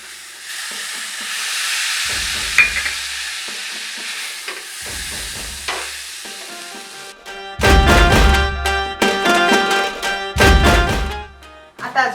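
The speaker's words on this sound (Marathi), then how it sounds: "तुम्ही बघू शकता गूळ वितळायला लागला आहे आता मी यामध्ये थोडंसं दूध घालत आहे" Milk poured into melting jaggery in a pan for modak filling, with bursts of loud sizzling, steam hiss and stirring scrapes that come in repeated waves over the second half.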